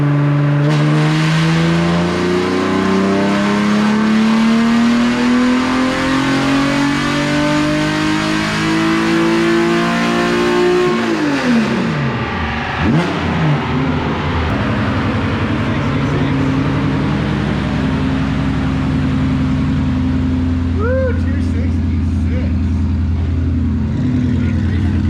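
A race car, weighted with lead ballast while being prepped for a Gridlife event, revs loudly and steadily, then its engine pitch sweeps down sharply mid-way as it downshifts, settling into a lower, rougher drone.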